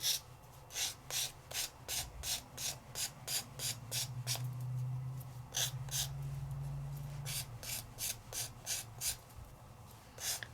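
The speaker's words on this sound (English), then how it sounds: "I'm going to take an emery board and I'm going to trim off the edges" An emery board rasps along the edges of craft paper in quick repeated strokes, a close steady series of scratchy swipes with a short pause in the middle before the filing resumes.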